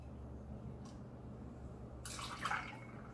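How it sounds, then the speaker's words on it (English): Cognac poured into a glass makes a short, quiet liquid trickle and splash near the end, heard alone against a low room hum. "So we'll go ahead and we'll pour 2 ounces of cognac."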